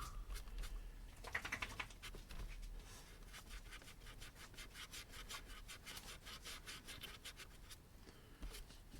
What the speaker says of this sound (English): Give this one a good rub. Bring up those rivets.